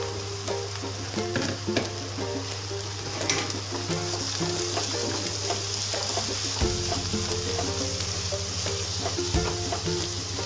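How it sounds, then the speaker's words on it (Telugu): Chopped onions and green chillies sizzle steadily in hot oil in a pan for an Andhra-style egg and raw prawn curry, with occasional stirring clatter and a constant low hum underneath and no talk. "అందులో ఆయిల్ వేసి వేడెక్కిన తర్వాత తరిగిన ఉల్లిపాయలు పచ్చిమిర్చి వేద్దాం"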